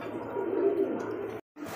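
Soft, low cooing from Rajgolla pigeons at a pigeon farm in Bangladesh, a steady murmuring coo running close by for over a second before a brief break.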